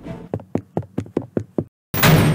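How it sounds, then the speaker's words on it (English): Knocking on a wall in a horror video game: about eight sharp, evenly spaced knocks that stop abruptly, followed by silence and then a burst of loud broadband noise. "That knocking came from the other side of the wall."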